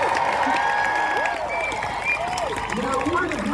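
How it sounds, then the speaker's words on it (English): A Renaissance fair crowd applauds the war horses, steady dense clapping heard close and loud throughout with a voice talking over it. "Have a nice round of applause for our war horses."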